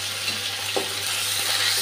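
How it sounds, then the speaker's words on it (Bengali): Poppy seed paste with a little turmeric frying in a pan, a steady even sizzle with a couple of faint stirring scrapes, no voices. "পোস্তটা ভাজা হয়ে গেছে।"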